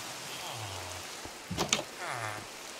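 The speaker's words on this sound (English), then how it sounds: "It's raining." Soft, steady hiss of rain falling in Minecraft, with a few brief game tones and a short clatter in the middle.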